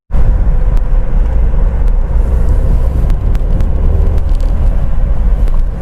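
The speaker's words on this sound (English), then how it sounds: "Driving the Renault Duster Turbo." Cabin and road rumble from a Renault Duster with a 1.3-liter turbo petrol engine and manual gearbox, driven on the road: a loud, continuous low roar throughout, with faint clicks and no speech.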